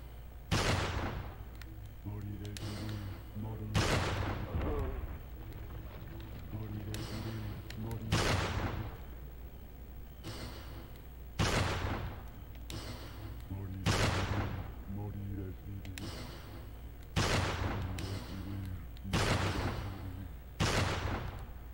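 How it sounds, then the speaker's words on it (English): Rifle gunfire in an action video game during a hard section, loud sharp shots roughly every couple of seconds with a few quicker bursts, over a steady low background rumble; a voice talks in between. "This is a hard part where you should be using the rifle"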